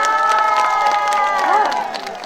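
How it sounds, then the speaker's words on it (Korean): A festival crowd in Cheongsong cheers and claps for the county governor, a loud, dense burst of shouts and applause that runs throughout and eases slightly near the end, with voices mixed in. "우리 군수님도 오셨네요. 박수 한번 주세요."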